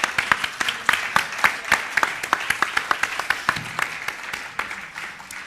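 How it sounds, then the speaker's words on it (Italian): A small audience claps at an event. The claps are distinct and fairly sparse, with a steady rhythm that thins out toward the end, moderately loud and heard alone. "E gli farei un applauso."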